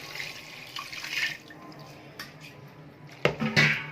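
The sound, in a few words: pouring cold water over cooked chicken noodles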